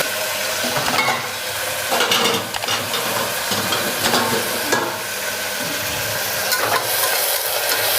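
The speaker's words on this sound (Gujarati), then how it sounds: "પાલકને તેલમાં આપણે ફેરવી લેવાની" Fresh spinach tossed in hot oil with asafoetida and stone flower hisses and crackles loudly, with repeated scraping strokes of a spoon against the pan as the leaves are turned over.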